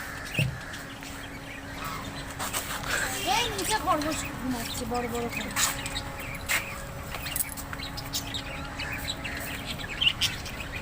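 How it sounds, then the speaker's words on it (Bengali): Birds in a park enclosure at Nalban Park, Kolkata, giving scattered chirps and clucking calls at moderate distance, mixed with a steady background hum and a person talking over much of it. "বেশ কয়েকটা পাখি হলো, পাখিগুলোর আওয়াজগুলো খুব শুনতে ভালো লাগবে।"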